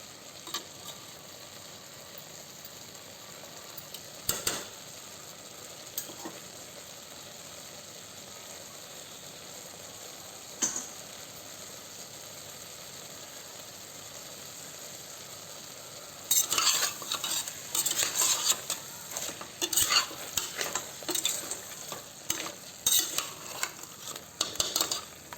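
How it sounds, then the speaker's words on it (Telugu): Mutton curry frying in a pan is stirred with a utensil, giving soft sizzling under occasional scraping taps that become a busier run of clattering stirs near the end. "మధ్య మధ్యలో ఇట్లా కలుపుతూ ఉండండి"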